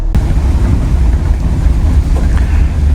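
A 25-year-old Tiffin Zephyr RV on the road, with a loud, constant low rumble of engine and road noise mixed with heavy wind buffeting, steady throughout.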